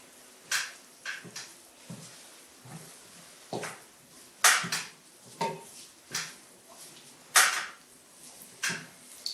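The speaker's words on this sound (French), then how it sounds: "Avec la cuillère, la spatule, nous allons mélanger tout ça." A spoon or spatula stirs flour mixture for yeast-free bread in a bowl, making a series of short scraping and knocking strokes at an irregular rhythm, close and fairly quiet.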